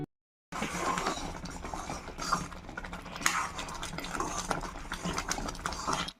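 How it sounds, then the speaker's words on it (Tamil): Rava upma with coconut cooking in a pan while it is stirred continuously, giving a steady scraping and clinking of a spoon against metal over a soft bubbling background. "சேர்த்துட்டு கை விடாமல் கலரணும்."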